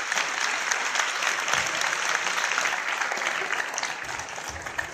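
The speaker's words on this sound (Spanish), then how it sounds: "un aplauso moi merecido para Martina" Well-deserved applause from a Nerd Nite audience, many hands clapping in a sustained, fairly loud burst that stays even and eases slightly near the end.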